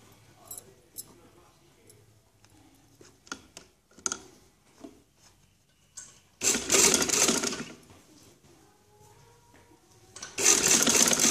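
A sewing machine stitches a placket (patti) neckline in two loud, steady bursts, a longer run and then a shorter one, after quiet fabric handling and light clicks.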